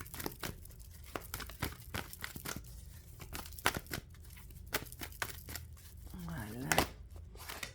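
Tarot cards being shuffled by hand, a run of quick papery riffles, snaps and crinkles in close, uneven bursts throughout, with a faint voice under part of it.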